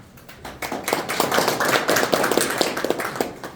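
Applause from guests at a local residents' meeting in Korea, with clapping rising after a quiet start and continuing steadily with sharp individual claps.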